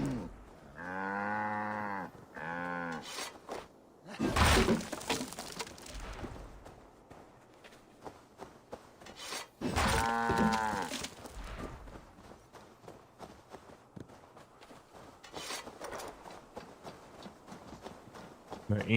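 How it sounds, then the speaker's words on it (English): A cow in the video game Assassin's Creed Valhalla lets out two long, loud moos with harmonic tones, the second louder, separated by a short gap, over quiet background game sounds and footsteps. "The ancient cow of ancientness."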